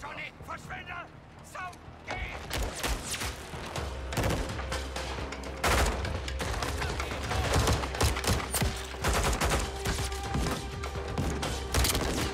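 Dense rattling gunfire and mechanical clatter from a Call of Duty Modern Warfare 2 (2022) battle aboard a rocking ship, with rapid bursts and heavy booms sounding close alongside game voices talking.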